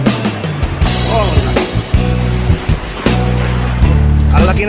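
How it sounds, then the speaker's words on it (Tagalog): Big ocean waves surging around a fishing boat hauling lobster and fish, a steady loud wash of surf and water throughout, with repeated engine-like hum and bursts of voices talking over it. "ang laki ng alon."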